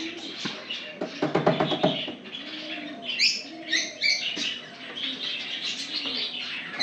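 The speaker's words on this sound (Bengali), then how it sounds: "আর বদ্রি পাখি, লাভবার্ড এসব রাখা আছে ভেতরে।" Caged pigeons, budgerigars and lovebirds chirp and tweet near a resort reception, with soft cooing and bright twittering calls in scattered bursts at close range, plus a few rustling knocks near the start.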